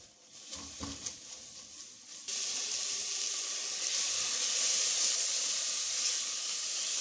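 Onion lightly sautéing in a pan for a masala fish curry, a soft hiss that jumps to a loud, steady sizzle partway through and continues alone.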